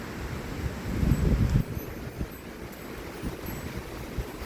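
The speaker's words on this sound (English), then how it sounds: "We got wind gusts up to like 50 miles an hour here." Strong wind gusts of a heavy thunderstorm in southeastern Pennsylvania buffet the microphone in a low rumbling roar, surging hardest early on and then settling into a softer rushing blow with rustling.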